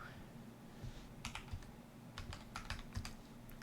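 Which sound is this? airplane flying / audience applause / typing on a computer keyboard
typing on a computer keyboard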